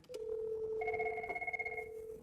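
A desk telephone rings during a call transfer in a steady electronic tone, one continuous ring with a warbling pulse, fairly close and clear with no talking.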